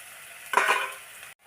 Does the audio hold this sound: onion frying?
yes